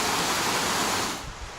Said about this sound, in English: We got the creek over here.